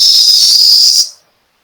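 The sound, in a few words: voice imitating a whistling sound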